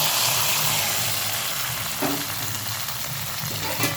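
Hot tempering (oggarane) stirred into freshly cooked alasande (black-eyed pea) sambar, giving a steady, loud broadband sizzle throughout, with a couple of brief clinks or stirring knocks and no voices.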